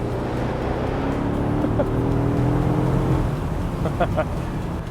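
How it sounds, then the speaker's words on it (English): Mercedes-AMG S63 with a twin-turbo V8 idling and revving, a deep steady exhaust rumble with a swelling rev around the middle, some faint higher clicks late on. "This one is the AMG, the S63, so you're looking at a beefy V8, 2 turbochargers, and one of the most magical exhaust systems you have ever heard."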